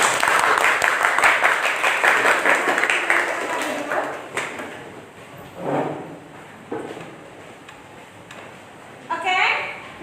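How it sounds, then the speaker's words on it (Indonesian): Classroom applause for a student group, a brief round of clapping from pupils at the start that quickly dies away, followed by quieter room sounds, shuffling and a few voices. "Tepuk tangan untuk kelompok ini."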